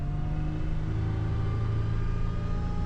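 A supercharged 5VZ V6 in a Toyota T100 pickup hums with a steady low rumble while driving, a constant engine drone and road noise with no voices.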